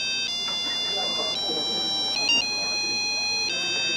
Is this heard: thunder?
no